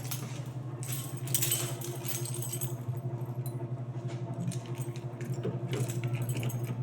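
A bunch of keys jangles and clinks in bursts while someone tries to unlock an apartment door in Calaca City, Batangas, over a steady low engine hum from a vehicle nearby.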